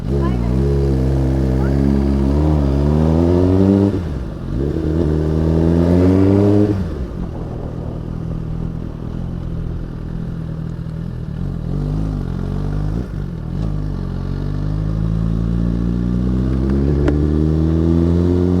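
Loud, close motorcycle engines revving up and down repeatedly, pitch rising and falling, with a rumbling idle between bursts.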